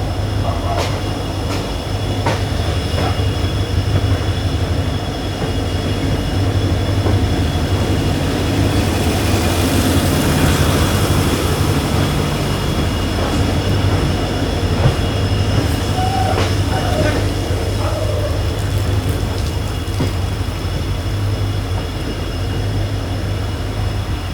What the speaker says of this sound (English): Crossing some trains here.